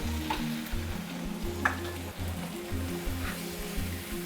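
Bobotie mince mixture with chutney cooking in a pan, giving a steady low sizzle with occasional scraping stirs and soft clinks throughout, with no talking.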